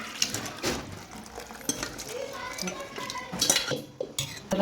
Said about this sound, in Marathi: इथे मी मी एका पातेल्यात काढून घेते